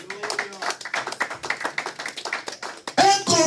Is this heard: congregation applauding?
yes